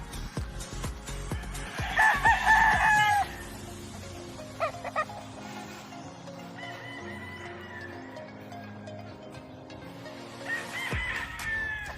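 Fighting gamecocks crow loudly, one near the start and another near the end, with softer clucking and farmyard murmur between them.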